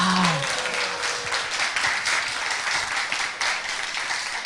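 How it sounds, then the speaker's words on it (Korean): Audience applause at a Korean literary event honoring an award-winning writer: dense, sustained clapping fills the whole stretch at steady loudness, with a brief voice cheering at the very start. "박수 한번 주세요."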